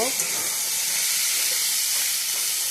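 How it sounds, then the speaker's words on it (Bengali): Potatoes frying in a pan give off a steady, close sizzle and hiss that holds at an even level throughout, with no talk over it. "আর এখানে বসেছি থেকে আলু ভাজা হচ্ছে"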